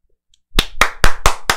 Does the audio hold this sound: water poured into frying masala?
no